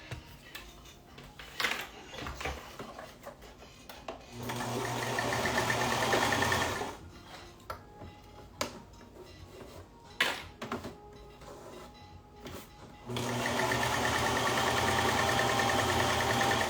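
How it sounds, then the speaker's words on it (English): Sewing machine stitching fabric in two sustained runs of rapid mechanical whirring, separated by quieter stretches of clicks and handling noise. "So I'm gonna sew this around and then I'm gonna show y'all the finished product."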